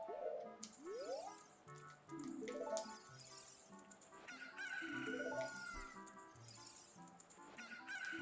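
Cuckoo chickens in the video game Ocarina of Time cluck and squawk repeatedly in a steady, busy chorus, with high, rising calls layered over game background music.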